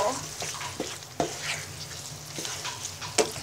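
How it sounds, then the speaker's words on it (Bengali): Raw mango pieces being stirred with spices in a pan for a melting green mango pickle, with a steady soft sizzle broken by scattered scraping and clinking spoon strokes, close and moderate in loudness. "এবার সব মশলার সাথে কাঁচা আমের টুকরোগুলো ভালো করে মিশিয়ে নিব"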